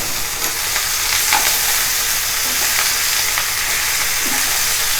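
Ridge gourd pieces and green chillies, with onions, frying in hot oil in a pan, giving a steady loud sizzle with stirring scrapes throughout, alone with no talk.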